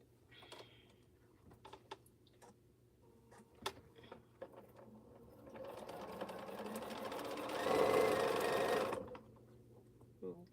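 A sewing machine stitches T-shirt pieces together for a T-shirt quilt, whirring in a steady close run that swells louder near the end after a stretch of scattered ticks and handling noises.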